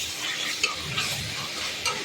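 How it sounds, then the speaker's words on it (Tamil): Tomatoes sauté in a pan with a soft, continuous sizzle while a spoon stirs them, with a few light scrapes and clinks close by and no one talking. "நல்லா கிண்டி விட்டுருவோம்."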